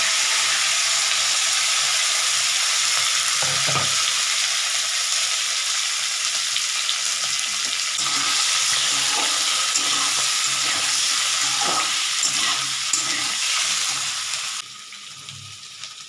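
Whole potatoes for vegetarian aloo dum sizzle and crackle steadily in hot oil in a pan, with occasional soft stirring knocks, before the frying noise drops lower in the final seconds.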